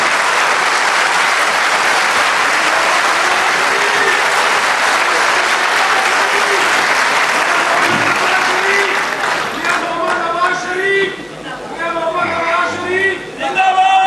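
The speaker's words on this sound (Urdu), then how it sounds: "ان کے لیے آپ سب لوگ تالیاں بجائیں" Dense crowd applause fills a metro bus inauguration rally in Multan, loud and sustained, thinning toward the end as a voice begins speaking over the fading claps.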